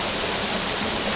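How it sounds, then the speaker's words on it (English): Waterfalls and stream water pour over rocks in a Hawaiian rainforest on Oahu, a dense, steady hiss of rushing water close by with no voices. "the sound you hear around you is the waterfalls flowing around"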